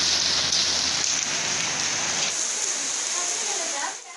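Steady rain falling in Punjab, a dense even hiss of drops on surfaces that holds constant and then eases slightly at the very end, with no voices over it.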